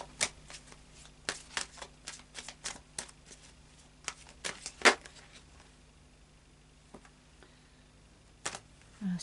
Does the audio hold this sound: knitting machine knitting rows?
no